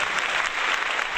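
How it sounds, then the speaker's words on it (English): Canned applause sound effect, a dense burst of crowd clapping and cheering, loud and steady throughout a short stretch with no voices. "give him some of that canned applause"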